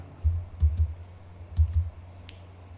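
Commands typed on a computer keyboard during campus network switch configuration, heard as two short bursts of soft key clicks with a pause between, close and fairly quiet against a low steady hum.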